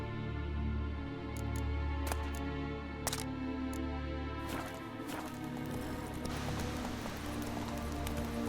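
Roach, the horse in The Witcher 3, trots along with steady rhythmic hoof clip-clops over a continuous game soundtrack, with a few sharp clicks scattered throughout.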